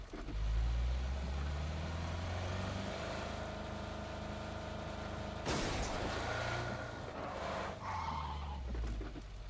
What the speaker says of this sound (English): I thought I heard a vehicle.